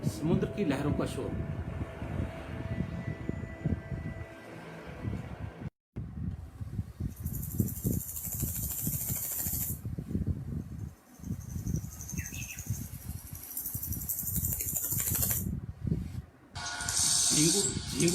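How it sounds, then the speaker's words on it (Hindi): Crickets chirping in high, shimmering bursts that come and go over a dense, rumbling low background, fairly close and moderately loud. "झींगुर की ध्वनि,"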